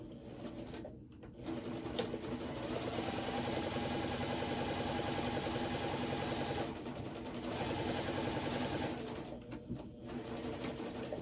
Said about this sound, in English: And now I'm going to sew the bottom.